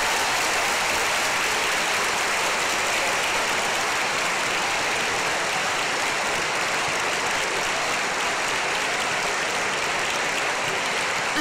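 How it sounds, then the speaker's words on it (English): A school house song competition audience claps loudly and steadily, with dense, sustained applause filling the whole stretch and no pause or voices over it. "can everybody give yourselves a huge round of applause for your efforts this afternoon."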